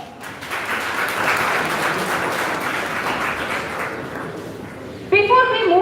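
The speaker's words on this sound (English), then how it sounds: "Give a big round of applause." An audience at a university memorial lecture gives a sustained round of applause, steady dense clapping filling the hall, before a voice begins speaking over a microphone near the end.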